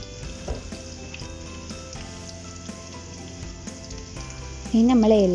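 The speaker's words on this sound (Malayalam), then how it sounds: "കടുക് പൊട്ടി വരുമ്പോൾ നമുക്കിതിലേക്ക് ചെറിയൊരു വെളുത്തുള്ളിൻ്റെ അല്ലി ചതച്ചത് ചേർത്ത് കൊടുക്കാം." Mustard seeds, crushed garlic and sliced onion frying in hot oil, a steady close-up sizzle and crackle that runs throughout and swells louder in the last second.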